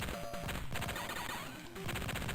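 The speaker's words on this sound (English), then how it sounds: "Little ricochet sounds there" Digitized gunfire ricochets and crashes from The Contras, a 1993 Tandy Color Computer 3 game, in quick rhythmic bursts over a looping chiptune soundtrack, moderately loud.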